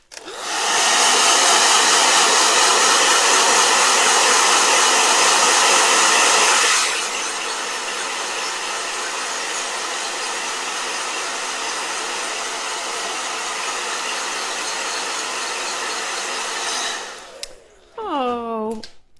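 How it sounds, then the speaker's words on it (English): A hair dryer blows steadily and loudly for about seven seconds, then drops to a softer, lower setting that keeps running until it shuts off near the end, leaving a brief rising whine. "All right, blow dryer."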